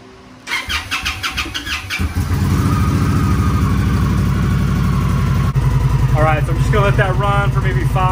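A 2020 Indian Scout Bobber Sixty motorcycle cranks over with a starter whirr, fires up loudly close by and settles into a steady idle. Someone talks over the engine.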